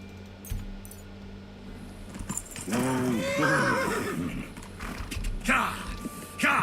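A horse in a video game neighs loudly with a wavering whinny, mixed with clip-clopping hooves and creaking tack, while someone speaks over the game sounds.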